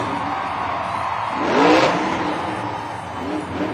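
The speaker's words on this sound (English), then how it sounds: "Engine revving, throws it into reverse." Monster truck engine revving at a stadium freestyle event in Denver, a broad engine roar swelling to a louder peak midway then easing, with a fainter rev near the end over steady arena crowd noise.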